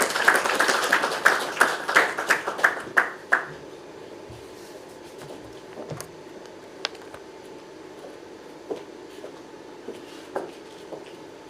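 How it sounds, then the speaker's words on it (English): An audience at a formal launch event claps in a brisk burst for a few seconds, then the applause thins out to a few isolated, fading claps in a quiet hall. "Round of applause"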